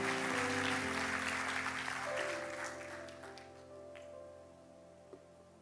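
Applause from a church congregation, dense and steady at first, then thinning out and fading over several seconds as music tones sustain underneath.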